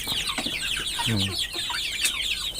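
Penned chickens kept on a farm cluck softly and chirp in a scattered way at close range, with a brief low burst in the middle and no talk.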